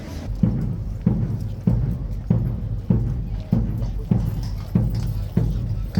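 A horse on guard duty walks to its stables, its hooves clip-clopping in a steady, evenly spaced rhythm of about ten strikes. The hooves are fairly close and loud, with crowd noise and talk underneath.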